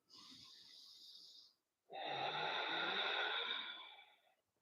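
Slow breath drawn in through the nose and let out with air brushing the back of the throat, a short soft inhale, a pause, then a longer, louder raspy exhale that fades out, close and alone.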